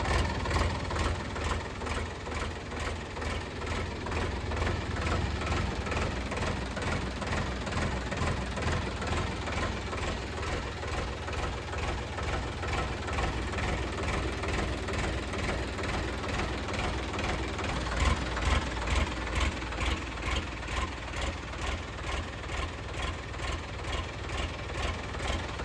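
A New Holland 3037 tractor, a 2024 model, idles steadily with a low, rhythmic diesel thump, unchanging and continuous, close by.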